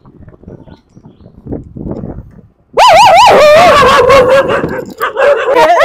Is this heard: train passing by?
no